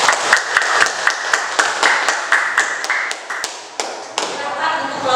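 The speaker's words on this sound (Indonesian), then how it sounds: "Terima kasih tepuk tangan untuk kelompok 2." Applause in an Indonesian classroom for a student group after its presentation: a run of crisp, fairly loud hand claps and taps for about five seconds, uneven and slightly thinning toward the end.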